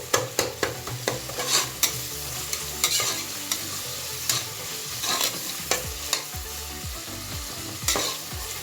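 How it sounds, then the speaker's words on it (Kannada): Two lengthwise-sliced onions fry in a pan, giving a continuous crackling sizzle with frequent sharp clinks and scrapes from a stirring spoon, close and clear with no talking. "ಸ್ವಲ್ಪ ಫ್ರೈ ಮಾಡ್ಕೋಬೇಕು ಈರುಳ್ಳಿನ ನಾನು ಎರಡು ಈರುಳ್ಳಿ ತೊಗೊಂಡಿದ್ದೆ ಉದ್ದಿಗೆ ಹೆಚ್ಕೊಂಡಿದ್ದೆ ಈಗ ಹಾಕ್ಕೊಂಡು ಫ್ರೈ ಮಾಡ್ಕೊತಾ ಇದ್ದೀನಿ"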